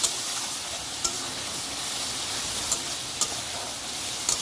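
Continuous sizzling of chicken masala sautéing in a pan for chicken kosha, with occasional sharp scrapes and taps of a spatula as it is stirred, steady and close with no talking.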